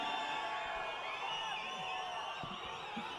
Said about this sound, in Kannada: ಅದೇನೋ ಗೊತ್ತಿಲ್ಲ, ಬರೀ ವಿಸಿಲ್ ಬರಲಿ ನೋಡ